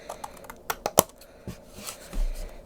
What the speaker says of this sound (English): I might just come in and trim just a little bit of an angle